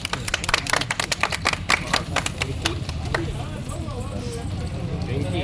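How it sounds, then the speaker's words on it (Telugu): Crowd at a YouTube foundation day event clapping in a quick burst of scattered sharp claps that thin out and fade, with voices talking over them. "అందరు జోర్ క్లాప్స్ కొట్టండి బా"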